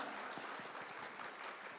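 An audience at a population forum claps to welcome a company CEO taking a seat for the speaker panel, a brief, even burst of many hands at moderate level.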